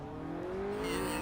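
A car engine revving in the racing video game Project Cars, a brief rising whine as the motor climbs in pitch, close and steady with no talk.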